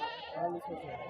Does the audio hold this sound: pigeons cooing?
no